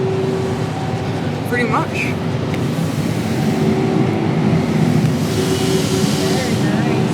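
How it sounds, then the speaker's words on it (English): Tunnel dryers at a Rocket Express car wash in South Jordan, Utah, roar in a loud, steady, broadband blast that runs through the whole clip, with a brief spoken remark over it. "Man, those are some intense dryers. These are intense sounding."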